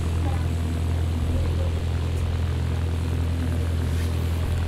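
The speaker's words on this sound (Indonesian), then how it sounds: "Wow, pelan banget lagi pesawat ini." A slow airplane in a video game gives off a steady, loud engine drone that holds unbroken from start to finish, with no other sounds standing out.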